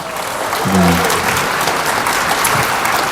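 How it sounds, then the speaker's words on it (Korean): An audience at Daejeon mayor Lee Jang-woo's book concert gives a sustained round of applause, loud and even, with a brief voice rising above the clapping early on. "다시 한번 큰 박수 주시죠"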